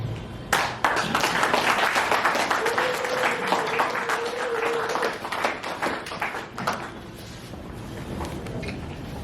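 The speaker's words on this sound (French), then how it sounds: "je vais vous demander de vous lever et nous allons vous acclamer" An audience at a French-speaking gathering gives sustained, loud applause. Dense clapping rises quickly, holds for several seconds with a brief whistle-like tone above it, then thins into scattered claps.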